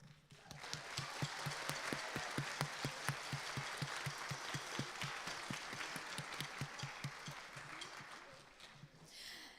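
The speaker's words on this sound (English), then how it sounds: "So please, a last round of applause for everyone here." An audience at a school beginning band concert claps in a steady, fairly faint round of applause with some rhythmic clapping, swelling and then tapering off near the end.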